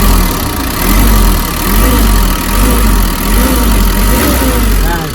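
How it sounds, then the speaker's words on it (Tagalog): An engine runs steadily at idle in a water-related setup, a continuous low rumble with a slight rhythmic pulsing, loud and close, with no talk over it. "running na yung engine natin"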